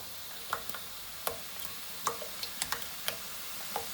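Spoonfuls of besan batter pressed through a slotted ladle fall into hot oil as boondi, giving a soft frying hiss dotted with irregular small pops and ticks, quiet and close, with no speech.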